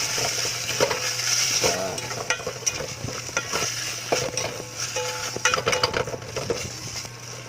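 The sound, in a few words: stirring young coconut sauté in a pan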